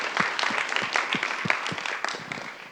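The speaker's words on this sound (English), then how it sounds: "Round of applause, absolutely." A virtual audience applauds a departing organizer at a psychology and neuroscience lecture, giving scattered, moderately loud claps that thin out gradually over a few seconds.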